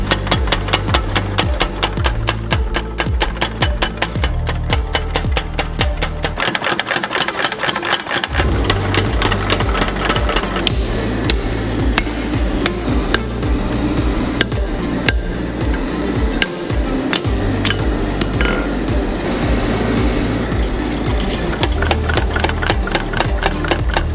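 Bronze dagger stock is hammer forged into a tapered tang, with loud, rapid, rhythmic blows that continue almost without a break and pause only briefly once.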